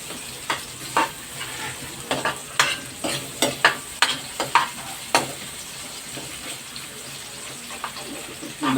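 Onions fry in a pan for adobong isaw, a soft steady sizzle broken by repeated scraping and stirring knocks in an uneven rhythm, heard close up.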